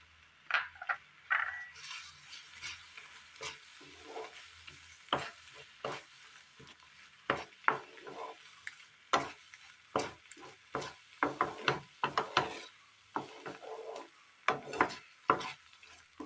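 A spoon stirs and scrapes a cornflour mixture in a pan while grape sweets cook, giving irregular, close, soft scraping strokes over a faint background hiss, with no talking.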